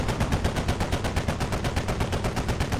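Rapid automatic gunfire in the military shooter game Squad rattles in a fast, even stream of loud, close bursts that carry on without a break.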